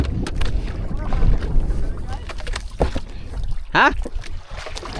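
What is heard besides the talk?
motorboat engine starting and sputtering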